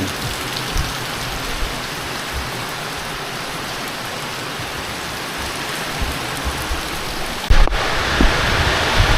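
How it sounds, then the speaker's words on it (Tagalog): Steady, dense rain pours down without a break, a broad hiss of drops hitting a surface, with a brief louder rattle near the end. "Ang ulan."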